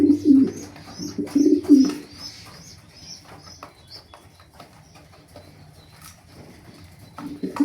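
A racer pigeon coos in a cage, with deep rolling coos near the start and again at the end, close and clear over quiet background rustling and a few faint chirps.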